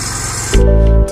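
A lawn mower drones steadily while mowing a small section of yard, its engine swelling louder for about half a second before settling back to a steady running hum.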